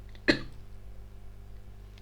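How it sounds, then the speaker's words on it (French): A single sharp cough from a woman, close and brief, breaks an otherwise quiet room. "je me suis mis à tousser"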